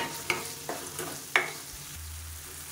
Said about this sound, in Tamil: அப்புறம் தக்காளி சீக்கிரமாக வதங்கும்.